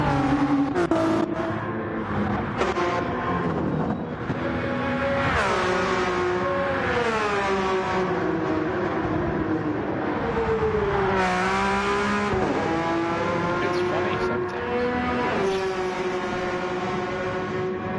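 Race cars in a 12-hour endurance race lap the track, engines roaring loud and close with rising and falling pitch as cars pass and shift gears, overlapping one after another with no talk.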